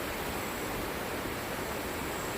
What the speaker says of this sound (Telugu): వాటర్ అయితే ఫ్లో అవుతుంది చిన్నగా